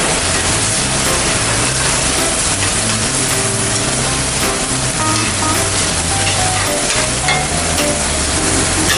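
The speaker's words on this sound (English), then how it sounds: "Use a little bit now and we'll stir it in as needed." Tomato paste stirred into a sizzling sauce in a pan over high heat, a dense, loud, steady sizzle with faint scraping from the stirring, close and continuous.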